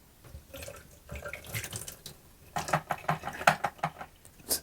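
Tap water runs and splashes over the tank of a Hoover CleanSlate upholstery spot cleaner at a sink as it is rinsed out, with uneven gurgling bursts and drips growing busier toward the end, close and alone.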